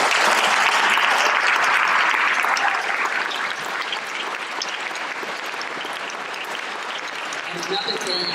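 A crowd at a community meeting about a national park in Pullman applauds, loud sustained clapping that gradually thins and softens, with a voice coming in faintly near the end.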